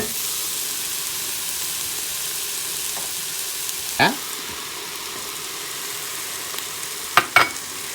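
Tomato paste frying in a pan with other ingredients for a fresh lasagne sauce, giving a steady, soft sizzle with a few brief clinks or stirring knocks near the end.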